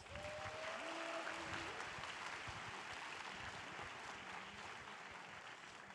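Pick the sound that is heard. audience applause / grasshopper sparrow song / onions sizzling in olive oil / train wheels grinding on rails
audience applause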